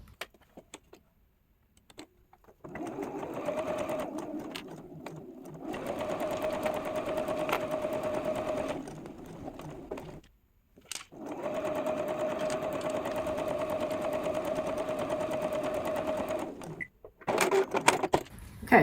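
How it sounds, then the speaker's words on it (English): A sewing machine runs in two long bursts, stitching down quilt-as-you-go seams for a cuckoo's nest quilt; a steady mechanical whir with short pauses between runs and small clicks near the end. "Okay, so that one's sewn down."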